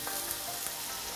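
Tofu steak frying in a pan as teriyaki sauce cooks down and glazes it, a soft, steady sizzle heard close and alone, with faint crackles scattered through.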